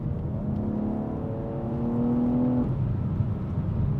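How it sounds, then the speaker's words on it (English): A BMW X3 M sports SUV with its S58 twin-turbo inline-six revs hard under acceleration, a steady loud growling drone with rising pitch heard from inside the cabin, no talk. "The S58 sounds so much better than the S55 engine. It has more definition, has more growl to it."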